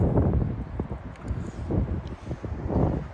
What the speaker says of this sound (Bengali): কিন্তু বাতাস অনেক বাতাস